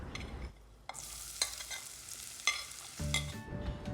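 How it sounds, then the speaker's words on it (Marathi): Onion cut in thick chunks frying in a pan with whole spices for dry shrimp rice, a steady close sizzle broken by a few sharp stirring clatters and scrapes, with no voices. "कांद्याला एक दोन ते तीन मिनटं व्यवस्थित असं परतवून घ्यायचं आहे"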